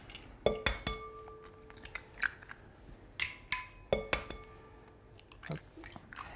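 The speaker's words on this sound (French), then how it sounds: "je casse les œufs." Eggs cracked into a mixing bowl for madeleine batter, giving a few sharp, close taps and clinks against the bowl spread over several seconds, with small wet crackles in between.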